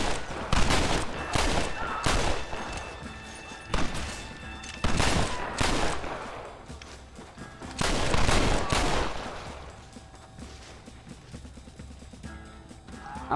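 Gunfire from the Western video game Red Dead Redemption, a shootout with bursts of rapid shots in loud clusters separated by short lulls, with a faint voice in the background.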